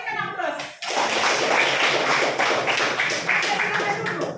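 Children in a classroom applaud together, a burst of dense clapping that starts after a short spoken prompt from the teacher and continues evenly for several seconds, close and lively.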